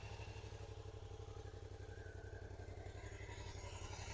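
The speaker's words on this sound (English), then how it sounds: "Starts up lovely. Give her a little. Sounds like a proper bike." A 2017 Suzuki DL650 XT V-Strom idles steadily nearby, its low twin-cylinder engine running with an even, throbbing pulse and light mechanical clatter for the whole stretch.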